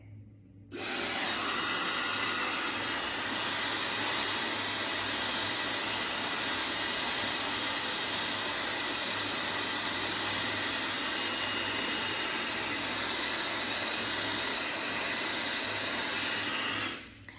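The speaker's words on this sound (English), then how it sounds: "Now I've got my dryer on warm and slow." A steady, loud rushing whir of a hair dryer on a warm, slow setting starts abruptly and blows continuously without pause, then cuts off at the end.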